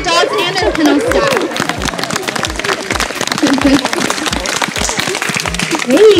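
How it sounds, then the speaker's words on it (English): An outdoor audience claps for sled dogs and their kennel staff at a Denali National Park sled dog demonstration, scattered hand claps ringing out steadily alongside talking voices and crowd chatter. "why don't we give a round of applause for the dogs and their kennel staff"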